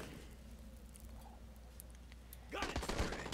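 Gunfire from a firefight in the video game Call to Arms: a low, quiet hum gives way near the end to a burst of rattling shots and sharp cracks.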